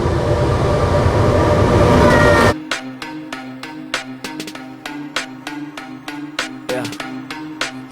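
A train roars past close by, then shifts into a regular clickety-clack of wheels rolling over rail joints, rhythmic and loud.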